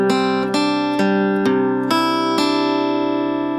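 A guitar plays a bar of a song, with a series of clear plucked notes and sustained chords ringing in steady succession, close and alone.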